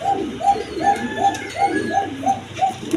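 A pair of colored pigeons sitting on two eggs coos in a steady series of about nine soft, rounded calls, close by and fairly loud, with no talk over them.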